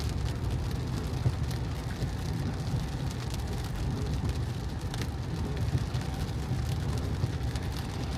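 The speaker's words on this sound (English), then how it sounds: "I think this rain's supposed to be going on all day." Rain falls steadily on a Tesla car in a dense, even patter on the roof and glass, heard from inside the cabin with no talk.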